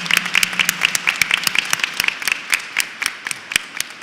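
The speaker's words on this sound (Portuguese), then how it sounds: "com uma grande salva de palmas, acolher esses nossos irmãos e irmãs" Church congregation applauding to welcome visiting brothers and sisters during a Christian unity prayer service, with a brisk patter of many hands and some sharp individual claps standing out, continuous and fairly close.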